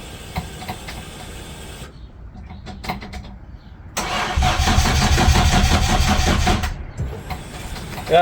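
Nissan Skyline R33 fitted with an HKS exhaust cranking and firing up nearby, a loud burst of engine rumble after a brief starter attempt, with no talking.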